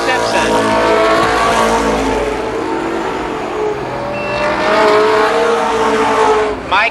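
IMCA modified race cars at Columbus Motor Speedway howl across the finish of a heat race, loud engines revving and fading as they pass, with an announcer speaking throughout.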